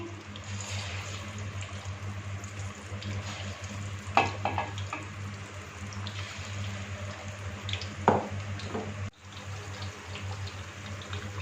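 Pakoras fry in oil over low heat, giving a steady broadband sizzle with a low hum underneath and a few louder clinks or splashes as more pieces are added.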